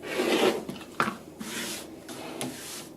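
A rotary cutter slices through quilt block layers with fabric and batting, giving a few close scraping cuts alongside ruler shifting and handling noises, with no talking.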